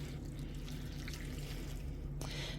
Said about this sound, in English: So I'll just fill up the other jug for you